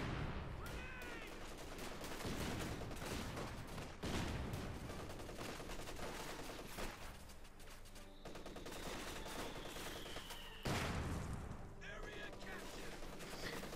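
Battlefield gunfire in Company of Heroes 2, USF against OKW: bursts of rifle and machine-gun fire crackle throughout, with sharp louder reports and a whistling shell, mixed with ongoing combat noise.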